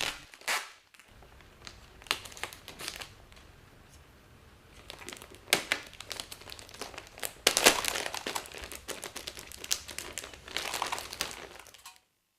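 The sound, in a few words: thin reflective insulation and adhesive tape being handled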